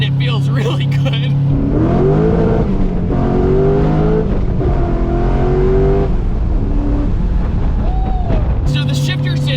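A Nissan 300ZX Z31 with a swapped true LS1 V8 revs and pulls hard through the gears, its loud rising and falling engine note close and dominant, with short shift breaks between pulls.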